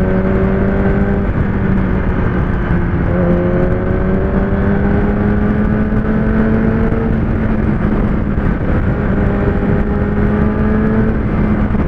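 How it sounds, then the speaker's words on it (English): Kawasaki ZX-10R four-cylinder motorcycle engine and exhaust roaring close by, steady throaty drone with rising and falling rev pitch across the whole stretch, no talk. "The roar of the exhaust has got so much more throaty, man."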